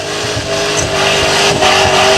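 A Holden VN Commodore does a burnout at Southcoast Raceway, its engine held at a loud, steady high rev with rough, roaring tyre spin close by throughout.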